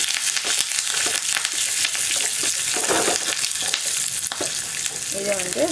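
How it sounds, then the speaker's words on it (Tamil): Curry leaves and garlic crackle and sizzle in hot oil while being fried for kara boondi, a dense continuous hiss with occasional stirring scrapes. "இப்போ வந்து கருவேப்பிலையும் பூண்டும் சேர்த்துக்கலாம். இது நல்லா வறுக்கணும்."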